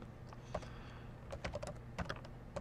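Rapid, irregular keystrokes on a computer keyboard as a virtual machine name is typed during Red Hat Linux server setup, close and fairly quiet with no talking.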